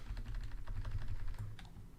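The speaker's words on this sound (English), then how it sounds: "So shuffle this." Board game cards for Spire's End being shuffled: a quick, soft run of dense papery riffling clicks, close but quiet, with no talking.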